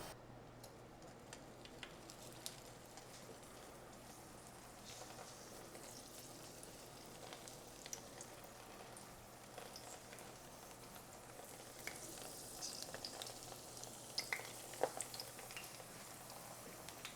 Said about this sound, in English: Okay, now oil is warmed up.